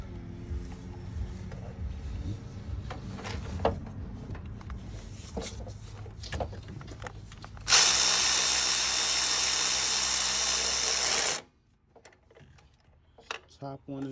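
A power tool whirs loudly for about four seconds while tightening transmission bolts on a 2005–2008 Pontiac Grand Prix GXP, breaking in after quieter garage clatter and stopping abruptly.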